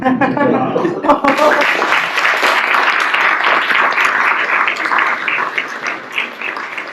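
Loud, sustained applause from a crowd at a military change of command ceremony, a dense wash of clapping running the full length with a voice briefly over it at the start.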